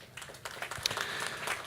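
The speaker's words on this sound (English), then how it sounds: "I think he deserves an applause from all of us" Short burst of applause from conference attendees at an expert assembly opening in Wroclaw, a modest indoor crowd clapping with distinct individual claps audible, brief and moderately quiet.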